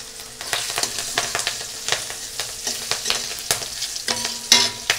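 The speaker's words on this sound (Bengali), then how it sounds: "এইবার আমি দিয়ে দেব লঙ্কা চিরাগুলো।" Slit green chillies frying in a hot pan give a steady sizzle and spitting crackle, while a spatula scrapes and taps at an irregular pace, close and fairly loud, with no talk.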